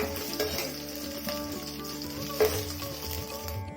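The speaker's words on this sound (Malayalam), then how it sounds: "ഇനി നമുക്കിതിലേക്ക് നമ്മൾ അരിഞ്ഞു വെച്ചിട്ടുള്ള ഇഞ്ചിയും പച്ചമുളകും ചേർത്ത് കൊടുക്കാം." Ginger and green chillies sizzle steadily in hot oil in a pan for a paneer butter masala, with scraping stirs breaking in now and then; the frying hiss is close and continuous, with no talking.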